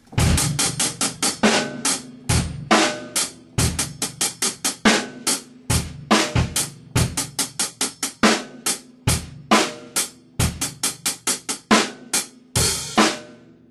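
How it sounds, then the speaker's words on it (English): A drum kit plays a steady groove of rapid seven-stroke hi-hat rolls, each ending in a crisp snare hit, with bass drum underneath, loud and close. "you can take a 7-stroke roll, put it on the hi-hat, and end it on the snare drum"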